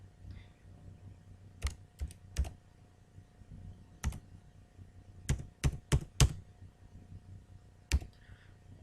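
Keys clack on a computer keyboard as a PAN card number is typed in small letters, coming in scattered single taps and short quick bursts against a quiet room.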